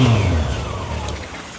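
Yamaha FJR1300 semi-auto motorcycle with a standard engine revving up then settling into a steady running note, close and loud, with no talk.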